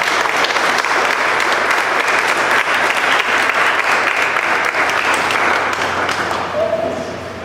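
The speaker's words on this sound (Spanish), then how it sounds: "Tírenle un aplauso al Señor." A church congregation bursts into sustained, loud applause filling the room, steady for several seconds before fading at the end.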